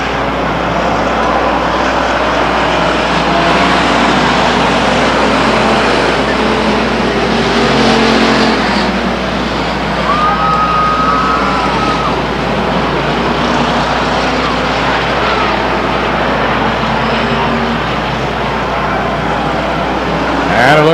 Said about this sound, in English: Stacy Griemeyer spins the race car off of turn 2.